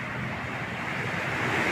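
Ocean surf at Punta Harina beach, a broad continuous wash of waves mixed with wind buffeting the microphone, steady and fairly loud with no talking.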